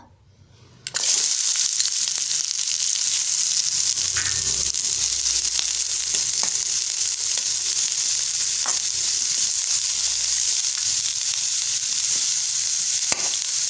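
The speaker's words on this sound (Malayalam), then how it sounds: "ചൂടായ ചീനച്ചട്ടിയിലേക്ക് 2 സ്പൂൺ എണ്ണ ഒഴിച്ചു കൊടുക്കാം. ഇതിലോട്ട് സവോള ഇട്ട് കൊടുക്കുക." Sliced onion drops into two spoons of hot oil in a wok and breaks into a loud, continuous sizzle that holds steady throughout, with a few faint clicks and no voices.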